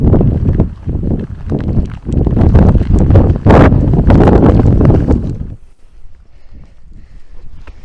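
Wind gusting across an exposed mountainside in cold, rainy weather, a loud continuous roar buffeting the microphone that drops to a fainter rustle near the end.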